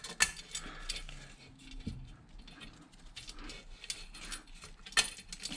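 Small metallic clicks and ratcheting twists come from loosening the spoke nipples on a bicycle wheel during a wheel build, faint and close, with scattered sharper ticks and no talk.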